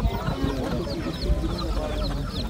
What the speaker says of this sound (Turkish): Tokat tavuklar arkadaşlar.